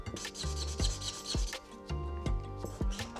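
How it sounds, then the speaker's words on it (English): A scratchy pen rasps across paper in a run of short, quick strokes while someone draws a Minecraft TNT block. The scratching is quiet, close and steady, with no voices. "I do wish this pen was not so scratchy"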